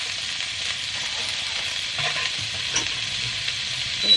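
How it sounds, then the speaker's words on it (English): Food sizzling and frying in a pot over a campfire in a Viking tent while a utensil stirs it around, a continuous close crackle with a few scraping knocks of stirring. "So I'm gonna use this to stir it around,"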